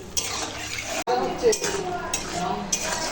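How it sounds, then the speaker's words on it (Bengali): Sour okra curry made with tamarind simmering in a pot while being stirred: clinks and scrapes of a spoon on the pot over a bubbling, watery background, with a person talking. "এটা ঢেঁড়সের টক রান্না হচ্ছে"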